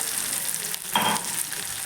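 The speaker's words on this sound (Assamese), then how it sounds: "এইখিনি মই অলপ সময় ভাজি থাকিম ৰঙচুৱা হোৱালৈকে।" Steady sizzling of onions frying in hot oil with ginger, garlic and turmeric, close and continuous, with a brief louder crackle partway through.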